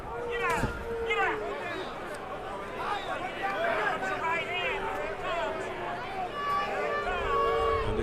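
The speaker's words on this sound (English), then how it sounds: "And the crowd continues to be very upset." Heavyweight boxing crowd at a WBO title fight between Shannon Briggs and Sergei Liakhovich, a restless arena murmur with scattered whistles and shouts during a slow round, steady and fairly loud throughout.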